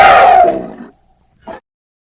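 An elephant trumpeting a loud, bright blast that fades over about a second, followed by a short softer call after a brief pause.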